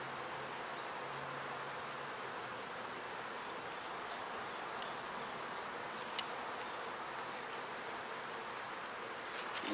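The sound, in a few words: bees flying around a beekeeper at a hive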